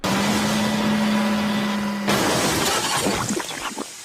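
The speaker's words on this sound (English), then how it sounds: "His flatbed biffed into the sidings to a stack of roofing slate and smashed it into tons." A flatbed wagon slams into a stack of roofing slate by the railway sidings and smashes it. A steady whistle-like tone cuts off abruptly into a loud shattering crash, followed by scattered clattering fragments that gradually thin out.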